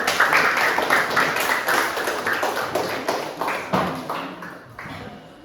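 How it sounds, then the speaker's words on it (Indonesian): A classroom group gives a round of applause for a student team about to present. The dense clapping is close and continuous, then thins and fades toward the end. "Berikan tepuk tangan dulu untuk kelompok 1."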